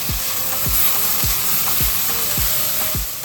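Ginger garlic paste, onions and chopped tomatoes stir-frying in a pan for Goan chorizo feijoada, a steady loud sizzle broken by a regular series of falling tonal sweeps, no talking.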